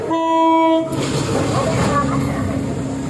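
Economy passenger train Rajabasa sounds a loud, sustained multi-tone horn for nearly a second, then rumbles and clatters steadily past at close range.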